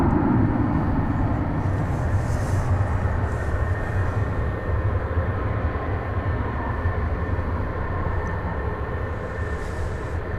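American Airlines jet taking off at DFW Airport at night, a steady broad engine roar that stays moderately loud and even throughout, no talk over it.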